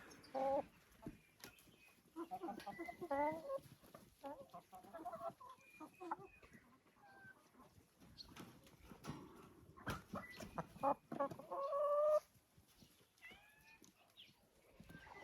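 Several chickens cluck and murmur in irregular bursts, fairly close, with brief pauses and scattered clicks between calls.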